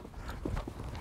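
A horse cantering under a rider in a riding arena, soft muffled hoofbeats landing in a quick rhythm, faint and close.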